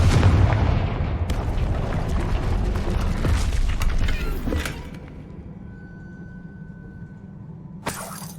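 Confringo spell blast in Hogwarts Legacy: a deep sustained rumble of explosion and tumbling debris for about four seconds, dropping to a quiet hum with a faint tone, then a sharp short burst near the end.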